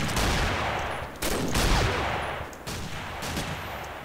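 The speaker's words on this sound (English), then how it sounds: "It's a weird feeling when you hear gunfire all around you, but you don't hear, but you don't actually see anyone." Gunfire in the Combat Arms first-person shooter, heavy bursts and scattered shots crackling in a continuous volley, some loud close reports among distant firing across the match.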